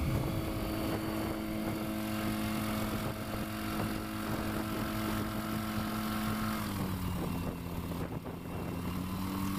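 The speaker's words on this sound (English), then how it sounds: "Another fantastic takeoff from Matt." A STOL propeller plane takes off during swamp STOL practice in Jennings, Louisiana, its engine a loud, steady drone that holds level with a harmonic hum and shifts pitch slightly partway through.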